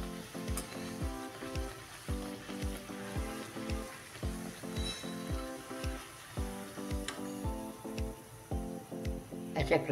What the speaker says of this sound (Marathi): अशा प्रकारे आपण सर्व पुऱ्या तळून घेऊया